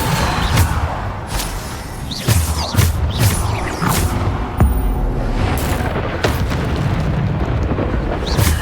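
Repeated booming Bombarda blast spells in Hogwarts Legacy gameplay, several loud heavy explosions with sharp attacks over a dense rumbling low-end combat din, broken by crackling magic bursts, with no talking.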